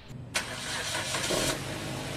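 A Suzuki Ertiga engine, just refilled after an oil change and flush, cranks briefly and catches, settling into a steady mid-pitched idle heard close up with no talk.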